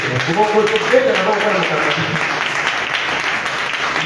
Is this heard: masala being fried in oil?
no